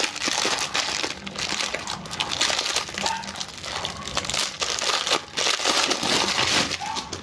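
Packaging for a snake skin wire cover being opened, with steady crinkling and crumpling of plastic up close, continuous rustling with brief pauses and no talking.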